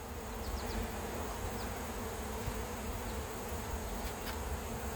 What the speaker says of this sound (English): Look at the bees on the front of that hive.